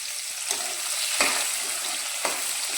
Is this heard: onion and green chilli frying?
yes